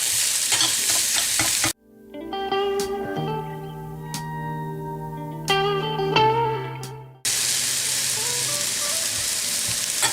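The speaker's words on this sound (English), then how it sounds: "all we're doing right now is just sauteing the 3 ingredients" Ginger and onions sizzle and are stirred in a pan: steady broadband frying noise opens and closes the clip, broken in the middle by several seconds of sustained tonal ringing over quieter sizzle.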